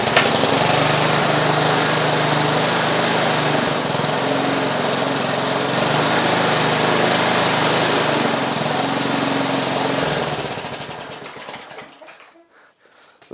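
A Masport lawnmower's small Briggs & Stratton four-stroke petrol engine runs loud and steady with a rough buzzing drone, then cuts out and sputters to silence near the end.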